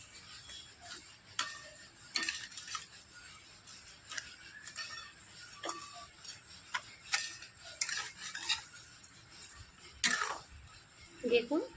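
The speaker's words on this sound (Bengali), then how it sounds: "চিনিটা একটু নাড়াচাড়া করে মিশিয়ে নেব।" A spoon clinks and scrapes against a bowl while sugar is stirred in for sago laddu, the taps coming in an irregular, ticking rhythm, close and fairly quiet, alongside a faint background hiss.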